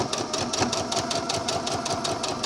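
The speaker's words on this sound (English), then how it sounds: "Start stitching and have your edges together, back stitch, and then continue." A sewing machine runs steadily while stitching the facing of a scalloped-waist skirt, with a rapid, even mechanical chatter that stays close and constant throughout.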